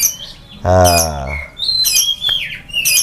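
Close, loud calls of murai (magpie-robin) birds at a breeder's: a harsh squawk followed by several sharp, rising chirps and whistles.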